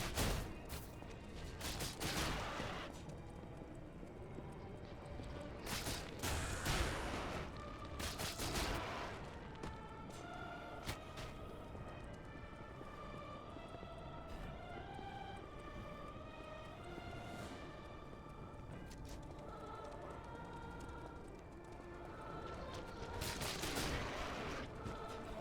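Cannon and gunfire booming repeatedly in Lies of P on Alchemist Island, sharp loud blasts spaced through the scene over a steady music bed.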